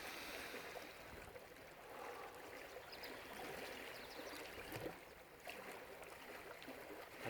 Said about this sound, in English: wow, I can hear the water.